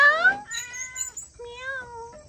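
A cat meows twice close by at a hill resort in Sajek Valley: a short, rising call, then a longer drawn-out one, clear and fairly loud against a quiet background.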